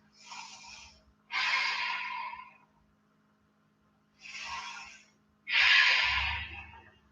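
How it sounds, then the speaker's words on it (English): Two slow, deep breath cycles during a held yoga pose: each is an airy inhale followed by a longer, heavier exhale, close to the microphone with quiet pauses between. "we're holding here for 2 deep breaths"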